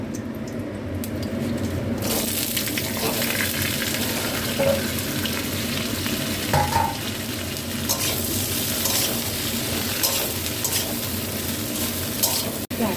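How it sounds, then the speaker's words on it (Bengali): Shredded cabbage fries in oil already used for frying potatoes, a dense, continuous close sizzle holding steady for the whole stretch, with faint stirring scrapes and no talking. "আমি বাঁধাকপিগুলো একটু ভেজে নেব।"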